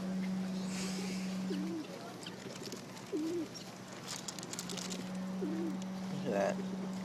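A dove cooing near a person with a coffee cup outdoors among pigeons, giving a few short soft coos spaced a second or so apart, with a steady hum and background noise underneath.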